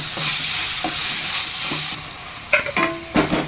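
A mango rice mixture stirred in a pan with a spoon, soft scraping and frying hiss throughout, ending in a few louder knocks and clinks against the pan.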